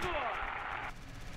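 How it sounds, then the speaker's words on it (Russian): A tank gun firing in the World War II game Theatre of War, set in the 1941 Battle of Moscow: a loud single blast with a falling whine and a long rumbling tail that fades after about a second. "Выстрел мимо."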